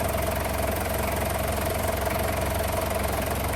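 A faulty car engine idles roughly on a cold start with one misfiring piston, a continuous close mechanical drone with a steady low throb and a faint tonal hum, no voices.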